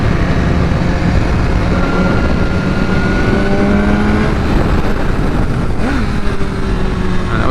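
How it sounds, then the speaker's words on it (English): 2016 BMW S1000R motorcycle with a flashed ECU tune and no quick shifter, cruising with a steady loud engine drone and wind roar, then a quick throttle blip near the end that briefly raises the engine pitch. "That was me blipping the throttle there."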